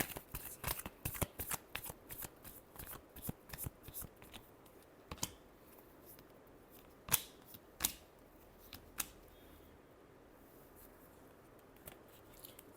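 A deck of cards shuffled during a weekly tarot-style reading, with rapid riffling bursts in a fast rhythm for the first few seconds, then a few sharper isolated snaps and flicks, close and fairly quiet, with no talking.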